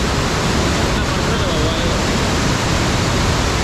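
Heavy floodwater roars through the Erattayar tunnel, a loud, steady, dense rushing wash that fills the whole clip without pause.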